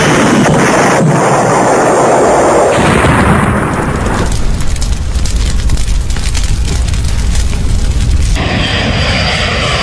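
A loud, sustained roar like a jet engine and blast from a plane crash explosion, broad and rumbling, continuing at high intensity for several seconds without any voices.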